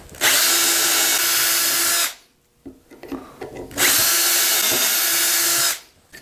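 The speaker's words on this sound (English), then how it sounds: "Drill our holes." Power drill boring dowel holes into a clamped wood board, two long steady whining bursts with a pause of small knocks and handling between them, loud and close.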